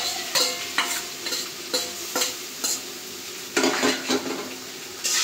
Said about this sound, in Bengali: ডিমটা ভাজা হয়ে গেছে, এখন এই যে কাঁকরোল ভাজিটা দিয়ে দেব